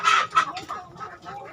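Muscovy ducks and ducks on a farm give a few close, loud clucking, quacking calls in quick succession that fade toward the end.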